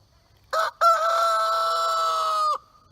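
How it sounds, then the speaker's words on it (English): A rooster crows once at close range along the Appalachian Trail in Virginia, a loud sustained harmonic call of about two seconds after a short opening note, with no talking over it. "There's a rooster that woke me up."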